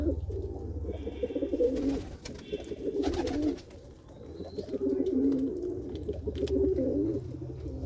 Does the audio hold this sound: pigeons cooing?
yes